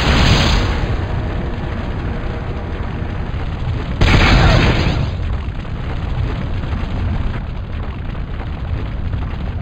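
Mobile artillery fires in Star Wars: Force Commander, two heavy explosive booms about four seconds apart, each a loud burst trailing into a rumbling decay with no voices.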